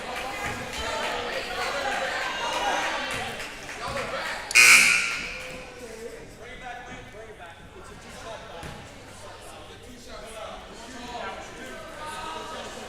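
A loud electronic buzzer sounds once during a boys' varsity regional final basketball game, a short harsh blast over crowd noise in the gym, with commentators talking before and after it.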